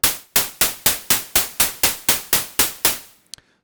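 Synthesized white noise from oscillator A of Ableton Operator, soloed as one layer of a snare patch, fires as eleven evenly spaced, sharp, hissing bursts that each decay quickly, then ends with a couple of faint clicks.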